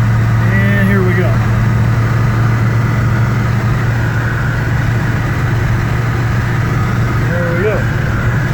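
A 1967 Pontiac GTO engine drones steadily at close range through the whole stretch, a constant low hum of driving, with brief bits of speech near the start and end.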